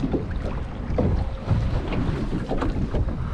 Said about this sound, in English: there's a big ship coming over the rocks